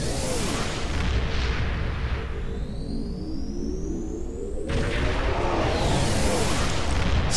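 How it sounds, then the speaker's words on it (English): Ship cannons firing in the space game Star Trek Online, aboard a temporal destroyer: a steady roar of energy weapon fire and booming hits, loud and continuous, with sweeping tones passing through the middle. "We can see what the cannons are like on this."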